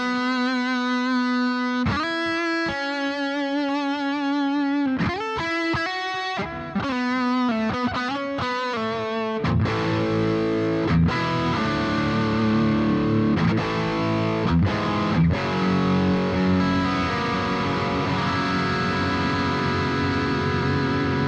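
An electric guitar runs through the Boss GX-10 multi-effects unit on its GX Dual Drive patch. It opens with sustained distorted notes and quick runs, then moves into thick, crunchy overdriven chords with echo.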